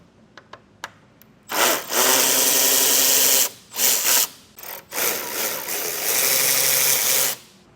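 A power tool removes 10mm bolts from the upper grille of a 2024 Chevrolet Silverado 1500: a few light clicks, then loud close bursts of whirring and ratcheting with brief pauses between them.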